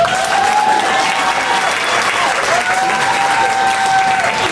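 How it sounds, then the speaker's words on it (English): Comedy-club audience applauding, a dense burst of clapping from the crowd that swells and holds for several seconds, with a faint voice and a brief whistle-like tone riding over it. "Can you clap, or are you too tired?"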